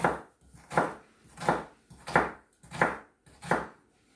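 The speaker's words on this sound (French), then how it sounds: "Alors on fait des tranches dans la hauteur, dans la longueur, en premier, et après dans la hauteur, comme ceci." Kitchen knife cutting vegetables for a Mexican salad, slicing lengthwise then crosswise into small dice: six evenly spaced, crisp chopping strokes on a board, close and alone with no talking.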